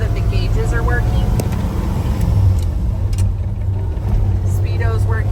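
A 1969 Ford F100 pickup with a 4-speed manual drones steadily as it cruises down the road, with a loud continuous low engine and road rumble and occasional faint rattles from the cab.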